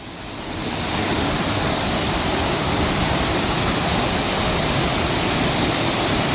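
A waterfall thunders close by near its base, a loud, continuous rushing roar that swells in over the first second and then holds steady, with no voices over it.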